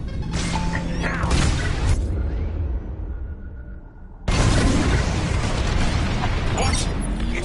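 Bombs detonate during a starfighter raid in Star Wars Squadrons, loud booming blasts over a steady roar of engines and cockpit noise, with a sudden heavy explosion surge partway through and voices speaking over the action.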